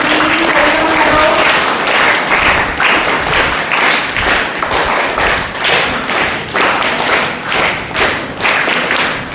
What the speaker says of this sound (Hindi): चलो बच्चों, तालियां बजाओ, सभी की वेलकम करो